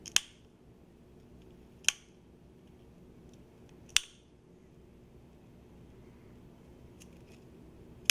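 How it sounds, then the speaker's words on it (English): Bone nippers snip through a cat's ribs during a chest dissection, producing sharp isolated crunching clicks spaced about two seconds apart against a quiet background. "using our bone nippers to cut away the ribs"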